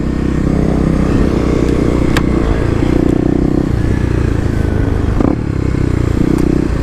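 A Kawasaki KLX250 dirt bike revs hard in a parking lot while attempting a second-gear wheelie, its engine a loud, continuous drone that holds and shifts pitch, with clattering mechanical noise mixed in.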